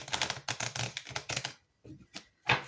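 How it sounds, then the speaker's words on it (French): Tarot cards are shuffled by hand in a quiet room, a run of quick, crisp riffling taps and slaps in bursts, close and moderately soft, then a short pause and a final snap. "Je mélange mes cartes."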